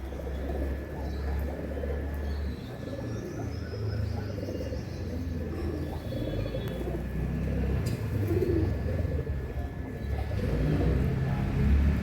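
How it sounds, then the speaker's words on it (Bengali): Soft, low cooing of pigeons repeats on and off over a steady outdoor hum, with faint distant traffic and occasional small knocks. "ধপ ধপে দুটো সাদা পায়রা দেখছি এসছে।"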